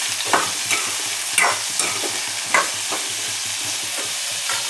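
Potatoes sautéing in a pan with a steady sizzle, a spoon scraping and stirring several times over a low rhythmic hum from the stove, loud and close.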